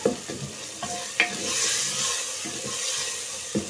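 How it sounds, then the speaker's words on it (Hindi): Spinach and potato roasting in a handi pot, with a steady frying sizzle and a few sharp stirring scrapes near the start and again at the end. "अच्छी तरह से हमने इसकी भुनाई कर लेनी है।"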